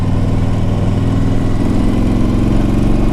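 A 2004 Harley-Davidson Ultra Classic motorcycle rides at around 50 to 60 mph with a loud, continuous low engine rumble and steady throbbing harmonics, up close and without speech.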